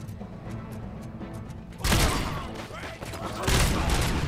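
Gunfire in the video game RoboCop: Rogue City, with two loud close bursts of shots cutting through lighter background game sound and faint talk.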